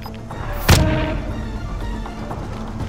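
A single heavy gunshot or boom from a Call of Duty Warzone match rings out sharply, then decays under a steady low game background rumble.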